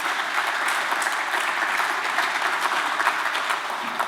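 Sustained, loud applause from an audience greeting Olympic climber Janja Garnbret at the opening of a climbing centre in Prevalje, dense clapping that continues steadily throughout.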